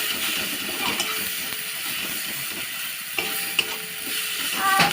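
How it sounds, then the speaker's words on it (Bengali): Spices sizzle steadily in a pan while being stirred for a homemade pasta dish, with a constant frying hiss, scattered scraping taps and a slightly louder rise at the end, no voices. "মশলাটা ভালো করে কষিয়ে নেবো 1 থেকে 2 মিনিট।"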